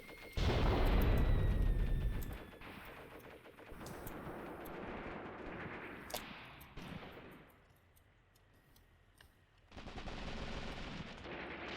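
Gunfire from the tactical war video game Graviteam Tactics: a heavy opening burst of automatic fire fades into scattered distant shots and sharp cracks, then a softer lull before another rumbling volley picks up.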